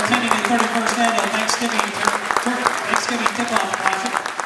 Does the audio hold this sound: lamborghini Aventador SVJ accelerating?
no